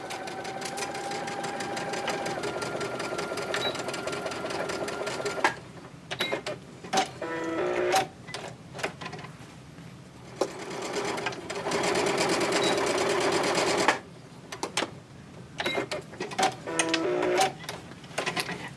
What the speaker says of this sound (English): I'm just going to place them on my sewing machine. So I will sew through the first row